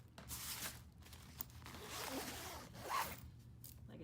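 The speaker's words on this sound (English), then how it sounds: "So I zip up the clothes side." A zipper closes the clothes compartment of a carry-on travel bag, a steady close rasping run lasting several seconds with small pauses and handling rustles, no talk.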